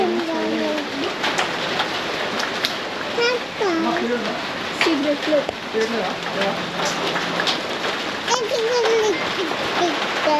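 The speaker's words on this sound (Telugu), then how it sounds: "ఇప్పుడే వర్షం కూడా స్టార్ట్ అయిపోయింది" Steady rain pattering on surfaces outside during a windy storm, a dense continuous hiss, while a voice talks over it and pigeons coo intermittently nearby.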